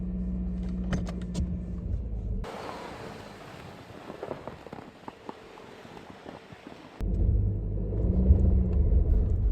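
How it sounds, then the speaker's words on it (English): A car's engine strains to pull free of deep snow on a remote winter forest road, a low rumbling roar that shifts into a rougher churning stretch midway before swelling louder again near the end, with no talking. "Let's see if the car can get out of here."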